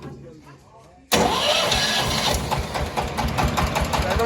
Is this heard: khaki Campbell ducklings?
no